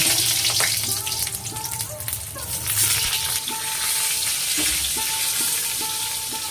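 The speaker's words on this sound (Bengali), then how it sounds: "এর মধ্যে এবার আমি সর্ষের তেল দিচ্ছি দিয়ে আমি পটলগুলো এবার ভাজতে থাকবো" Pointed gourd pieces frying in hot mustard oil in a pan, a steady loud sizzle with occasional stirring clatter, continuous throughout.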